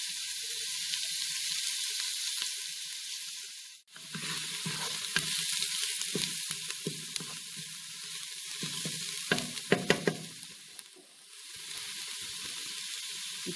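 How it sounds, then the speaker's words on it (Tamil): Garlic and onion sizzling in a pan for mullai keerai fried rice, a continuous close frying hiss broken by repeated spatula stirs and scrapes, with a brief dip partway through and no voices. "பூண்டு வெங்காயம் உள்ளுக்கு போடுங்க. முத நல்லா வதக்குங்க"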